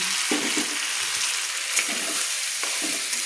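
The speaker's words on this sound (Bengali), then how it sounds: "আলুগুলো দিয়ে আমি ভালো করে একটু কষিয়ে নিচ্ছি আলুটাকে মশলার সঙ্গে" Small new potatoes sautéing with spices in a karahi give a steady sizzle and frying hiss, broken by repeated scraping stirs, alone and close.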